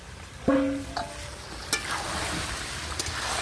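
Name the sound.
stirring duck meat in a pot over a wood fire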